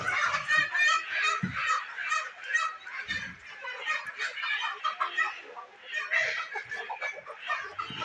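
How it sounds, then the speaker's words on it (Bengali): A flock of eleven roosters calls and clucks steadily from close by, overlapping chicken vocalizations filling the whole stretch with a few low thumps scattered underneath. "এগুলো পুরুষ মুরগি, টোটাল 11 পিস মুরগি"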